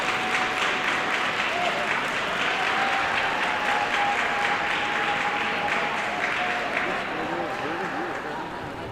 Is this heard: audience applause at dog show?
yes